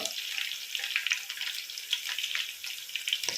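Split dried red chillies fry in oil with a continuous, soft, hissing sizzle and scattered tiny pops, steady and close, with no voices over it.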